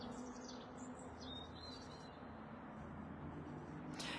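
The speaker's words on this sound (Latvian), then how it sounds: "Jūs laikam dzirdat, jā, kā te putniņi čivina" Small birds chirping outdoors in Ķekava, with scattered high tweets and short calls over a faint, steady background hum of distant traffic, all soft and far off.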